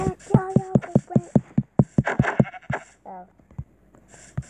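A sheep in a video game bleats in short wavering cries, close and clear, with clicking thuds around it and a quieter tail at the end.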